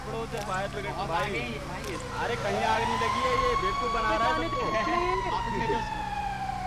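Fire truck siren in the video game GTA 5, a wailing tone sweeping up and down over engine rumble, with excited talk running over it.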